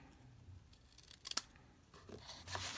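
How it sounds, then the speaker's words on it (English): Scissors snipping through patterned specialty paper for a gift card holder, a few quiet close-up cuts with one sharper slicing snip in the middle, otherwise soft and faint. "I'm just going to cut it with my scissors."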